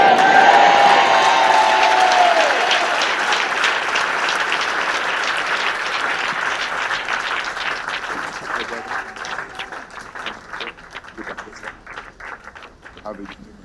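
A church congregation applauds as a retired archbishop leaves the altar, dense sustained clapping that starts loud and full, then thins out into scattered claps toward the end, with voices mixed in.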